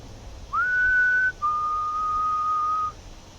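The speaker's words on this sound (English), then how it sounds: "Could you whistle for me?" Two clear, steady whistled tones from a person in a graveyard at night, the first slightly higher and the second longer, sounding close against a quiet background.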